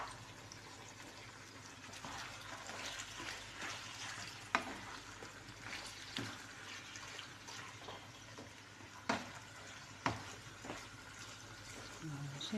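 Chicken liver and gizzards frying in a pan while being stirred, a steady soft sizzle broken by several sharp scrapes and knocks of the utensil, with a voice speaking faintly now and then.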